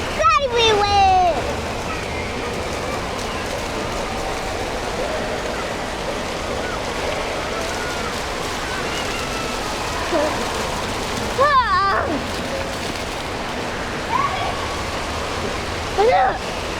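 Water crashes and splashes continuously at an indoor water park at the Great Wolf Lodge in LaGrange, Georgia, a loud steady rush with excited voices breaking in briefly near the start and again later.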